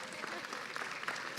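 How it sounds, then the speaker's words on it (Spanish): Brief applause from an audience at a government school class, a dense wash of hand claps at moderate level with no clear voice over it. "Un aplauso, por favor."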